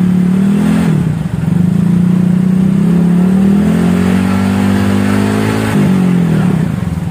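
Motorcycle engine running loud and close before a test ride, a steady throaty drone that rises and dips with brief throttle blips.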